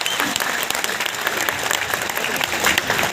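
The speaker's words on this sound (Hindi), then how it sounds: "एक बार जरा ताली बजाकर मुझे भी अनुमति दे दीजिए।" A crowd at a Hindi poetry recital applauds, close and loud, a dense burst of many hands clapping that continues unbroken for a few seconds.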